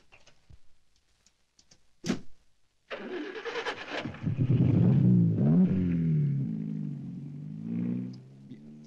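A car engine starts and revs up for a jump stunt in a Turkish film scene, a sharp start followed by a loud, rising mid-pitched engine drone that holds steady and then eases slightly, with no talk.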